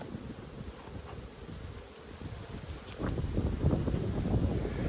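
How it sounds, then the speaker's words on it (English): Honey bees buzz around an open red hive during an inspection, a steady, dense insect drone close to the microphone that grows louder partway through, mixed with some wind noise. "So this is a red hive. We've got an Edmund's queen. They're probably going to be doing really well."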